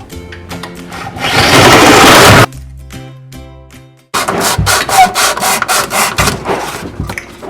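A saw cuts through a sludge-filled sink drain pipe held by hand, a loud, steady rasping stroke followed by a pause, then rapid rhythmic back-and-forth sawing close to the listener.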